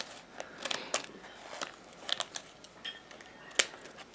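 Scissors snipping through toy packaging, a series of sharp, brief clicking cuts spaced unevenly, close and fairly faint, with no voices.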